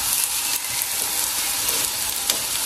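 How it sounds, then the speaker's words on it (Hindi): Onions frying steadily in a pan, browning for biryani, give a continuous bright sizzle that holds even and close throughout with no voices. "तो ये प्याज है, इसको मैंने ब्राउन होने के लिए रख दिया"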